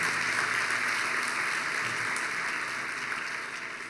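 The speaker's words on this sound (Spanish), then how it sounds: "vamos a darle un fuerte aplauso al Señor" A church congregation applauds the Lord in steady, dense clapping that fills the room at an even level, tapering slightly near the end, with no voices standing out.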